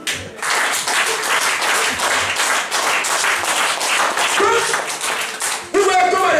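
A church congregation claps and applauds steadily for several seconds, dense and loud, with voices shouting over the clapping.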